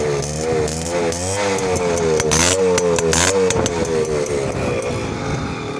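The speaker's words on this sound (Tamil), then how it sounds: "ஓ கைஸ் இப்போ வந்து வண்டி உங்களுக்கு ஸ்டார்ட் பண்ணி காட்டுறேன் பாருங்க." A stock-exhaust TVS Max 100 motorcycle engine runs loud and close, revving up and down in a throbbing, buzzy drone that holds throughout.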